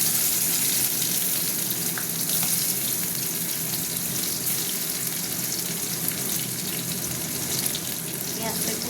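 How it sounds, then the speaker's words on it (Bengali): Onion sizzling in hot mustard-type oil after a dried red chilli tempering, a steady, dense crackle that stays loud and even throughout, with faint kitchen clatter and no talk. "এবার দিয়ে দেবো পেঁয়াজ।"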